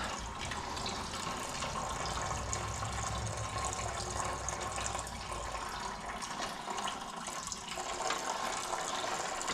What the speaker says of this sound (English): I don't want to sit there and listen to a trickle all day.